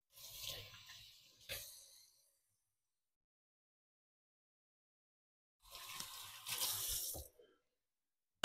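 Tap water running into a sink to wash out a measuring cup, two short gushing bursts split by a long silence, close and moderately loud, with no talking.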